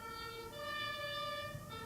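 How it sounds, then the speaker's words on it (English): A wailing emergency vehicle siren heard at a distance outdoors, a sustained rising and falling tone with rich harmonics over low traffic rumble from passing cars. "There was a siren, right?"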